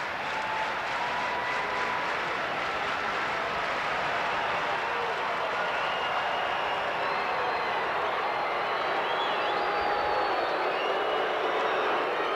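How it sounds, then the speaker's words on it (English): Steady rhythmic applause from a large baseball crowd at Tiger Stadium during a Cleveland Indians at Detroit Tigers game, a continuous dense roar of clapping held at an even level throughout. "Rhythmic applause underway here at Tiger Stadium."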